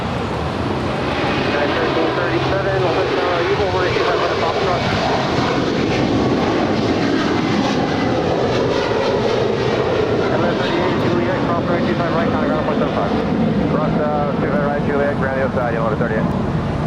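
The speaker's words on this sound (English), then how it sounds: "Qantas is now rolling on 25 right" Qantas A330-200 heavy jet rolling for takeoff on runway 25 right at Los Angeles airport, a loud sustained engine roar filling the scene, steady and broad throughout, with radio-style talk over it.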